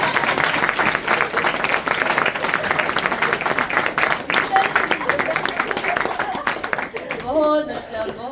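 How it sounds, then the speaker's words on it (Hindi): A seated audience at a Republic Day gathering bursts into strong, steady clapping for about seven seconds, with voices mixed in and the applause thinning at the end. "तो उनके लिए एक बार जोरदार ताली हो जाए।"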